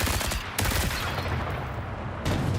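Gunfire from the shooter video game Marathon comes in dense, overlapping bursts of shots, loud and close, with brief gaps between volleys.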